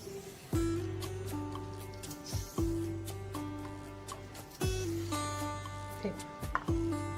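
A knife cuts and scrapes the skins off taro (colocasia) stalks in a home kitchen, with a few sharp knocks against the board and soft scraping between them, close and fairly clear.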